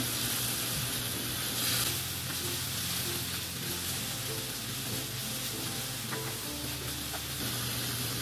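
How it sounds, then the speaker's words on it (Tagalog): Soy sauce poured into a hot pan of pancit guisado with meat, giving a steady, loud sizzle and hiss that runs throughout, with faint stirring noises and no speech. "Tapos buhusan natin ng soy sauce"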